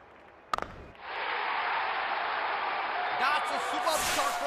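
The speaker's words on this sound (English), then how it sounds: "Crowd is going crazy." After a couple of sharp knocks, a broad crowd roar swells and holds loud and steady in the Real Cricket video game, rising further near the end.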